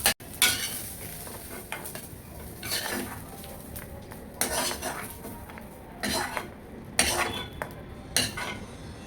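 Metal utensils scrape and clatter against a pan as fried onions are lifted out, with a soft sizzle of oil beneath a series of irregular close scrapes and knocks.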